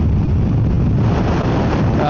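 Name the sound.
wind blowing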